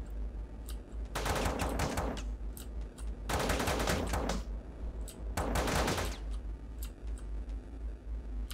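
Gunfire in the video game Teleglitch comes in three bursts of rapid, loud automatic shots, each lasting about a second, separated by quieter stretches of low game ambience.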